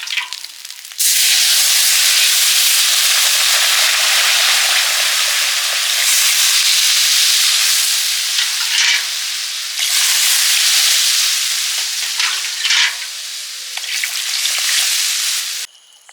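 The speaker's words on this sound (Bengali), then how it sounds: "জল দিয়ে দেবো" Water hits a hot frying pan while khichuri is being cooked, bursting into a loud, sustained sizzle and hiss that carries on close up for about fifteen seconds and eases slightly toward the end, with no talking.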